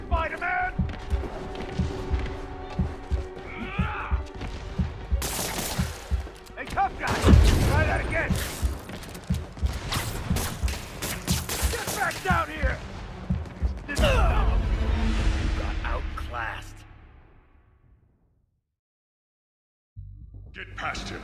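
Rapid gunfire bursts in a Spider-Man video game between crashes and thuds, mixed with character voices and music, then fading to silence before resuming.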